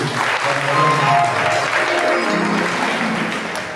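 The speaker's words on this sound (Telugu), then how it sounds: "అందరూ గట్టిగా చప్పట్లు కొడుతూ" Congregation at a Holy Thursday mass clapping loudly together, a dense, continuous burst of applause with faint tonal background, tapering slightly toward the end.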